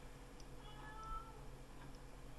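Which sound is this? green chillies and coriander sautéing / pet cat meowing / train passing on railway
pet cat meowing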